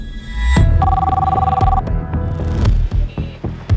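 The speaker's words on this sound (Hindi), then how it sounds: "तू हरीश के सेठ को फोन कर" A telephone rings loudly and close, its repeating electronic ring pattern sounding over a low hum and some mechanical knocks, with no talking.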